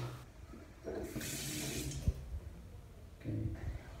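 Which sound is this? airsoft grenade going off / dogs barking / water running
water running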